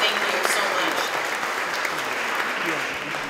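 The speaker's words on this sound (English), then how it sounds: "So let's give them a big round of applause, you guys." Steady applause from an audience, dense clapping holding throughout and tapering slightly near the end, with faint voices mixed in.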